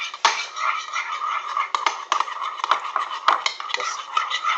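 Cheese being stirred into a snack mixture in a bowl, with a utensil scraping and clinking against the bowl in a steady, continuous rhythm of close scratchy strokes and small taps.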